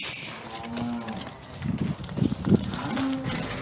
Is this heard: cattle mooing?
yes